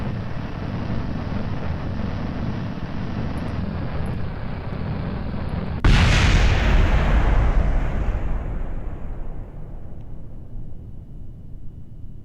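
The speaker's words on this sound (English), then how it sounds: "This engine explodes." A rocket engine explodes in Kerbal Space Program: a steady loud engine roar runs, then a sudden heavy blast bursts in and decays into a long fading rumble.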